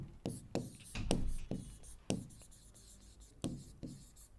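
Marker or chalk strokes on a board come in quick scratchy bursts, a dozen or so short writing strokes with pauses, close and moderately loud, with a voice faintly present underneath.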